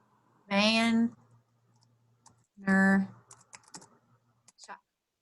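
Typing on a computer keyboard: a short, quiet run of separate key clicks follows two brief voiced sounds in an otherwise silent room.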